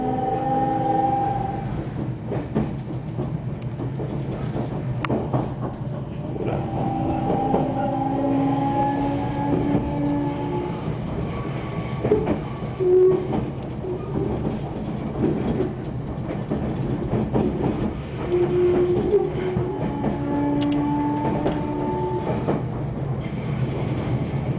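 A train runs along rails past a station on a journey out of Chubu-Tenryu station in Japan, with a steady loud rumble of wheels and carriages throughout and tonal squeals and hums rising at intervals.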